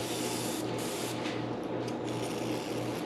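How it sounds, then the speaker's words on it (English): A steady, close hiss of cooking oil spraying from an atomizer runs throughout, with slight fluctuations over a low background hum. "A little spray of oil."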